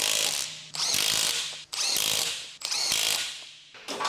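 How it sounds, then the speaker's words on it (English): An electric impact wrench with a 21mm long socket snugs the lug nuts on a Nissan Versa, giving four loud, close bursts of rapid hammering separated by short pauses, with no talk. "Using the 21mm long socket with the electric impact wrench, snug the lug nuts."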